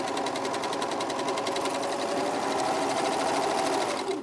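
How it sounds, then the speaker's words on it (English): A sewing machine with differential feed gathers fabric into a ruffle, running at a steady, fast, even chatter of stitches throughout at moderate loudness with no talking. "Let the machine make the ruffle and just guide the fabric."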